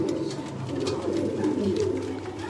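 A Sialkoti pigeon coos in a continuous low, rolling murmur, close and steady throughout, with no voices.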